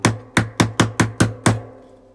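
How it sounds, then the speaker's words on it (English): Seven sharp, evenly spaced taps from a small hammer striking an airsoft P90 trigger unit's sear part on a tabletop, close and crisp, each decaying quickly, with a longer ring after the last blow. "take my little hammer"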